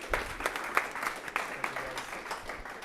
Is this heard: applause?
yes